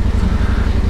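Kawasaki Vulcan 900 motorcycle engine running on a mountain route in Portugal, a steady, loud, close throb with a regular low pulsing beat and no talk.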